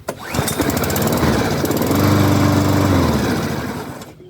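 Mountfield SP48 petrol lawn mower starts and runs, a close, loud steady buzzing engine drone that holds for several seconds before winding down and cutting out as the throttle is released.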